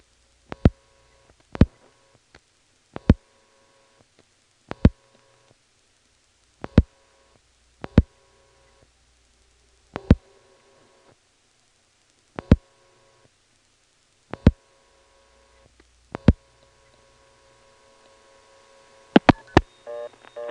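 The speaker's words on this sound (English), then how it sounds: "let's try simply picking up the phone and dialing 1 plus a long-distance number" A long-distance call is dialed on a 1977 step-by-step telephone exchange in Ramseur, North Carolina, heard as a series of sharp, evenly spaced clicks over faint line hum, with a quick cluster of clicks near the end.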